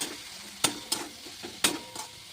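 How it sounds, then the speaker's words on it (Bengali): A spice paste with salt, turmeric and Kashmiri chili is sautéed for a fish curry, a low sizzle underneath a handful of sharp spatula scrapes and knocks against the pan, heard close up. "ভালো করে মশলাটা আমি কষিয়ে নেব"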